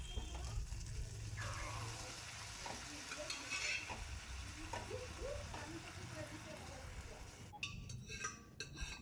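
Boiled bottle gourd goes into spice paste in a pan for a prawn curry and fries with a low, steady sizzle. Soft stirring and scraping sit under it, with a few clatters of utensils near the end.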